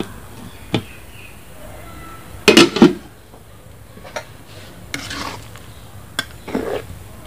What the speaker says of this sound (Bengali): আমার আগুন ধরে গিয়েছে, বাঁধাকপির কড়াইটা বসিয়ে দিচ্ছি।